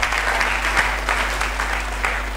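Church congregation clapping together during a sermon, a steady dense patter of many hands sustained throughout with no voices over it.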